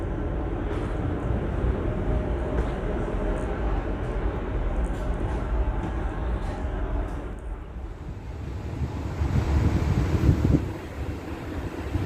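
An Italian local train running between villages, heard from inside the carriage: a steady, loud low rumble and rolling noise throughout, swelling briefly near the end.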